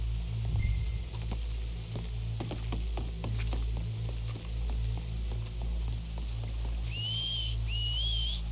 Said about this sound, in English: Someone whistle out here?